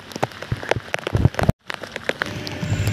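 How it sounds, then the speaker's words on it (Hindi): Heavy rain falls near a welding job, pattering densely on surfaces with sharp irregular drops, loud and close, cut by one brief dropout. "बारिश का आवाज़ कुछ ज़्यादा ही गाइस"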